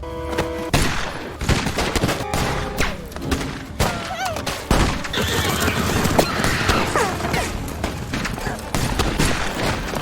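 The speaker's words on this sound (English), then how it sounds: "a gunshot startles the Dutton family returning to the ranch" Chaotic volley of gunfire with sharp cracks and thuds over a dense, noisy background, shots coming repeatedly and fairly loud throughout.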